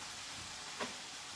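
Steak sizzles in a hot pan with a steady, fairly quiet broadband hiss and a brief louder crackle of spatter near the end.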